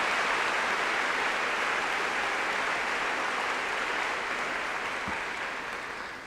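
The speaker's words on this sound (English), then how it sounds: "Let's give all these folks another round of applause." A convocation audience gives a sustained round of applause, dense and even, filling the hall before gradually thinning out toward the end.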